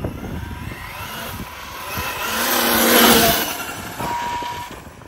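Losi 5T brushless 8S LiPo RC truck with a Castle 2028 800kv motor sweeps past on an icy outdoor track in a light breeze, a high electric whine swelling to a peak mid-pass and then fading away.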